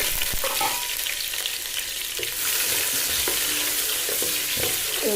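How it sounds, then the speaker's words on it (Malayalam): Onions frying in ghee give a bright, steady sizzle up close, broken by quick ladle scrapes and taps now and then, with nobody talking. "ഉള്ളി ഒന്ന് നല്ലോണം ഒന്ന് മൊരിയട്ടെ"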